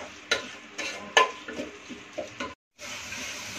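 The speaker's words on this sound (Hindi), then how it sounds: "अच्छे से फ्राई करेंगे इसको सारे सब्जियों को। भूनते हुए हम फ्राई करेंगे इसको।" Vegetables stir-fried in a pan for masala khichdi give a soft sizzle with irregular scraping and stirring knocks, close by, broken by a brief silent gap near the end.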